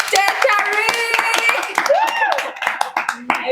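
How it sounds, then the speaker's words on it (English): A small group clapping hands indoors during a casual food-tasting chat in Kuala Lumpur, brief scattered claps mixed with lively talking and laughter over them. "can we clap hands for Tarik"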